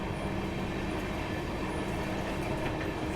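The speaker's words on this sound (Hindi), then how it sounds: "बाकी सकरी जंक्शन ट्रेन पहुंच रही है" A train on a rural Bihar route rolls into Sakri Junction station, a loud, steady rumble of wheels and carriages heard from on board, with no voices.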